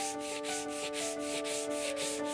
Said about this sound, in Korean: 떡살의 전체적인 윤곽을 잡고 난 후 나무를 매끄럽게 다듬습니다